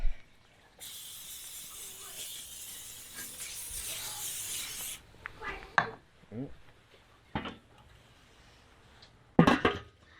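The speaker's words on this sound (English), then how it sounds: "give them another quick spray" A long, steady hiss of a spray over chicken wings on a Weber grill runs for about four seconds, followed by scattered clatters and a few short hissing bursts near the end.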